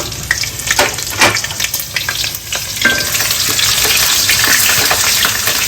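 Bay leaves and slit green chilies sautéing in hot oil in a pan, crackling and sizzling loudly up close with stirring scrapes that settle into a continuous steady fry.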